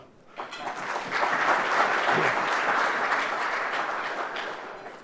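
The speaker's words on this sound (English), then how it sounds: "can we have a little clap?" Guests at an annual corporate celebration dinner in Dubai break into applause that swells quickly from near silence, holds as a full, steady clatter of many hands, then eases slightly toward the end.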